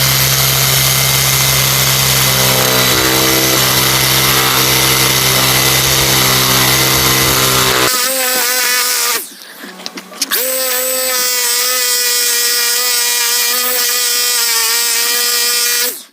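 A gas string trimmer fitted with a cheap attachment runs loud and close, first a rough low drone and then a high whining rev after a brief dip.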